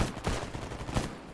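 Gunfire in the video game Stalker GAMMA during a firefight: a couple of sharp, fairly loud shots about 0.7 seconds apart stand out over a rumbling background of distant shooting.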